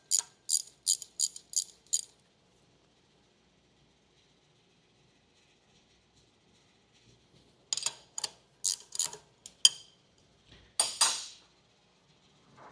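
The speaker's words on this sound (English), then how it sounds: "It's just easier to throw this gear wrench on here and snug them up." A gear wrench ratchets bolts into a monster truck axle flange in quick clicking bursts, one run of rapid clicks, a quiet pause, then several more short ratcheting strokes, close and crisp.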